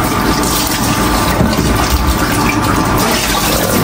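Tap water runs steadily and loudly while a spatula is rinsed under it in a home kitchen, a continuous gushing splash with no pauses.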